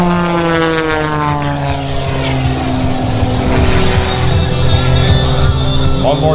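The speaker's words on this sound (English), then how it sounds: "You can hear the propeller." Propeller aerobatic airplane flying overhead during an air show display at Wings Over Wayne 2017, its engine drone loud and continuous with a strong pitch sweep as it passes close by.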